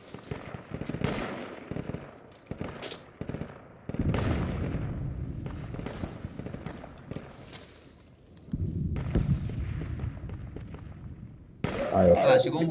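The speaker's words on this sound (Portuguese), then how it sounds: "Tô vendo os tiros vindo pra cá." Machine-gun fire from an MG34 in the military game Project Reality, with bursts of rapid shots near and distant scattered throughout while players talk over the team radio.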